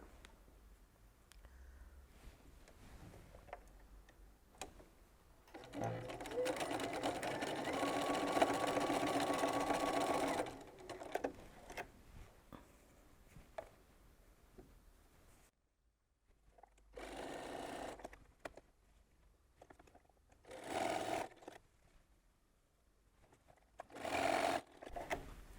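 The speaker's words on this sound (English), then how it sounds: "I'm going to sew that row together, and I'm going to use a 1/4 inch seam." A sewing machine stitches quilt fabric squares together with a quarter-inch seam, a steady close mechanical whir running for a few seconds, then short bursts of stitching separated by quiet pauses.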